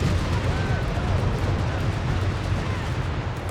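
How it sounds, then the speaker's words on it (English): A heavy artillery bombardment in the World War II strategy game Company of Heroes 3, a dense, continuous rumble of booming blasts and rolling impacts that stays loud and steady throughout. "And we got artillery called in here."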